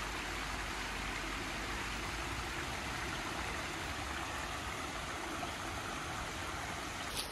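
A small waterfall and stream in Wissahickon Valley Park pour steadily, a dense unbroken rush of water filling the whole stretch at an even level, with no voices.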